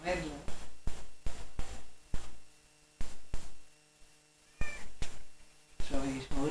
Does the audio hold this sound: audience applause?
no